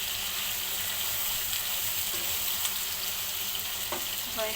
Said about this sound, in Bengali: সবজিগুলোকে আমি দিয়ে এটাকে নেড়ে ছেড়ে আমি ঢেকে দেবো পাঁচ মিনিটের জন্য